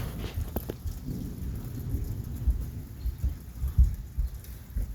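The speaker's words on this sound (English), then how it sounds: "Oh yeah, we got thunder." Thunder rolls in low, deep rumbles during a rain shower on a hot, muggy afternoon in Penfield, New York, swelling and fading several times over a steady background of falling rain.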